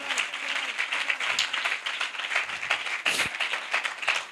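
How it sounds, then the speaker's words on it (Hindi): Church congregation applauding during a service, dense continuous clapping from a crowd with a few louder nearby claps, steady for several seconds. "आइए यीशु के लिए जोरदार तालियां।"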